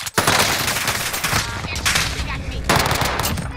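Sustained automatic gunfire in Call of Duty: Modern Warfare, rapid loud bursts running almost continuously, with voices mixed in.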